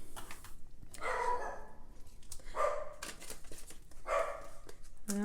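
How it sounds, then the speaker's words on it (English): Several dogs bark indoors in short, separate bursts, a few seconds apart, at moderate distance over a steady background hum. "the dogs are saying hello"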